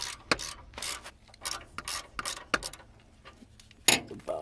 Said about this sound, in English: So there's two bolts on either side of the battery case that are 13 mil. So I'll just remove these.